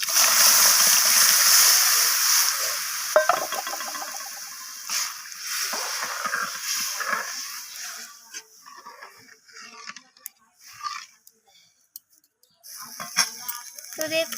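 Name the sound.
lentil stew (dalna) poured into a cooking pan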